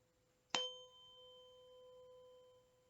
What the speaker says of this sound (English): This is 528 hertz.